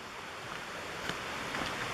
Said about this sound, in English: I'm hearing a bunch of falling water.